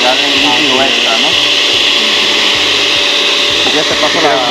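A blender whirs steadily and loudly as it purées fresh corn batter for a corn cake, with chunks knocking rhythmically against the jar throughout and no talking.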